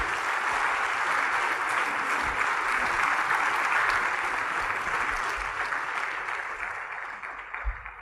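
A church congregation applauds steadily in a big, diffuse wash of clapping that holds for several seconds, then gradually thins and fades toward the end.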